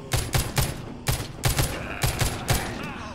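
Gunfire in The Walking Zombie 2 comes in a rapid series of about a dozen loud, punchy shots, spaced in short uneven bursts, close and dominant in the mix.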